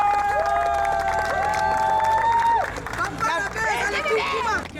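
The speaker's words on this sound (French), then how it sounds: "Applaudissez, s'il vous plaît." Audience at an African awards show applauding and cheering, a loud crowd wash under prominent singing or chanting voices, dipping briefly before resuming.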